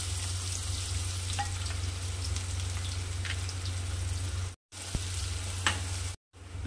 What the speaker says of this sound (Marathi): हे बघा कांदे असे कट करून घेतलेले आहे, 2 कांदे आहे मोठे मोठे। आता याला पण परतून घ्यायचं आहे।